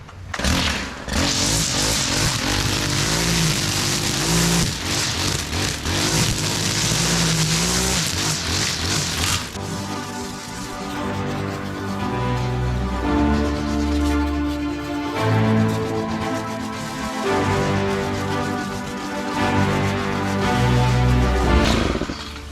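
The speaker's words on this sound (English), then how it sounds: "so now are we taking that out with the stump grinder?" A stump grinder chews out a tree stump, loud and close, its engine roaring with rough grinding bursts, then shifting to a steadier, throbbing tone that rises and falls as the cutter bites.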